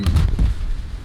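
Flamethrower fuel splashes onto the ground in War Thunder, a close, loud cluster of crackling low bursts and pops in the first half-second that fades into a dull rumble.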